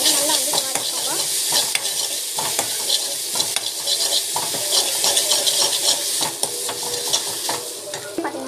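Mustard seeds frying in a pan, a loud, close, crackling sizzle with sharp pops and spatula scrapes running steadily throughout, no one talking.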